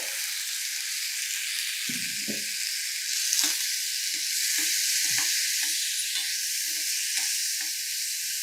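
Moong dal dropped into garlic frying in a pan sets off a steady, bright sizzle, with a few soft stirring scrapes and knocks underneath and no talking.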